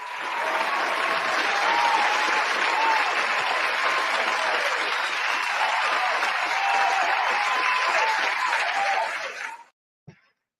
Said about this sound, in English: I would like to welcome her to the stage with a wonderful round of applause